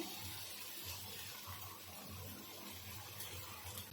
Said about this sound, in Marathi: इथे आता गरम पाणीच टाकायचं